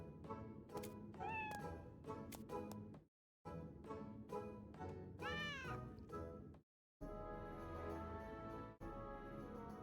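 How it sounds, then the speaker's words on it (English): Cats meow repeatedly in a Final Fantasy XIV cutscene, with several close, rising and falling meows over the game's music and sound, broken by two short silences. "He's surrounded by cats, including Makode."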